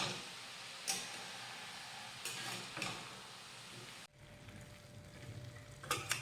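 Aloo methi bhaji, a potato and fenugreek dish, being mixed in a pan: quiet scraping stirs with faint sizzling and a few light utensil taps.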